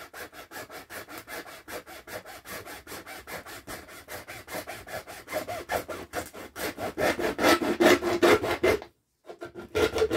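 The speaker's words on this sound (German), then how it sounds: "Nehmt ihr euch einfach eine Säge" A hand saw cuts open a metal paint can still partly full of paint, steady back-and-forth rasping strokes at a quick even rhythm, growing louder toward the end with a brief pause near the finish.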